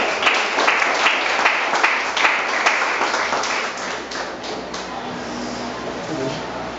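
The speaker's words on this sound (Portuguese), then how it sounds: "Palmas para o Senhor Jesus." Congregation at a church service applauding, a dense burst of clapping that is loud at first with some rhythmic claps, then thins and fades over several seconds.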